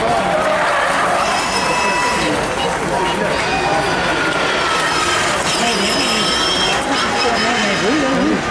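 Electric race cars skid and run on a street circuit in Montreal, giving a dense, continuous roar of tires and whine, layered with crowd noise and people talking.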